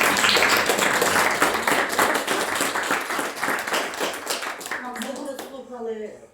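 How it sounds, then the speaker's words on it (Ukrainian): Audience applause for an author at a poetry book presentation, loud and dense clapping from a room full of people that gradually thins out and fades, with a voice starting to speak over the last seconds. "і ще раз оплески нашому автору."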